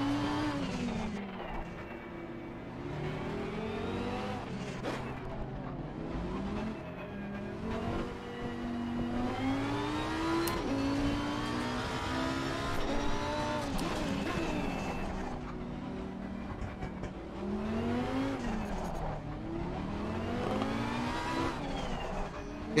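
A Ferrari race car engine in an Xbox racing game drones and revs continuously just behind, its pitch rising and falling through gear changes for the whole stretch, loud and steady with faint speech underneath.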